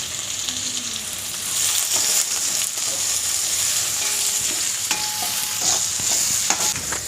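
Onions and green chilies fry in a pan, a loud steady sizzle with scraping stirs and clinks of the spoon against the pan throughout.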